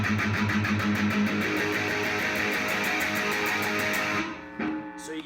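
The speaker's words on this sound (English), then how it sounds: "you start with a muted chord" A distorted electric guitar chugs a rapid, chopped palm-muted power chord that opens up and swells into a fuller ringing chord, from a song, loud and continuous, then stops suddenly near the end.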